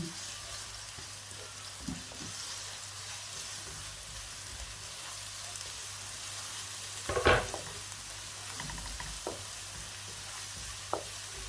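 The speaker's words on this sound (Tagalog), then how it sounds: "Hintayin din lang natin mag-brown yung bawang at isusunod ko na ang ating chicken." Garlic and onion fry in a pan for sotanghon guisado, a steady close sizzle with occasional stirring clicks and scrapes, one louder clatter midway.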